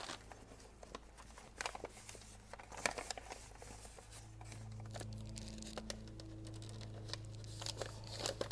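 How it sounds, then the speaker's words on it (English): Paper crinkles and rustles in close, irregular bursts while being handled for masking during work on an HP Z820 workstation, over a low steady hum. "I've got some paper here that I'm going to use to mask"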